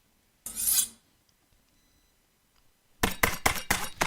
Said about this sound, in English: there's my two knife sounds isolated